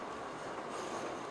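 A tram rolls along rails in the video game The Thaumaturge, giving a faint, steady rumbling hum with soft rail noise throughout and no talk.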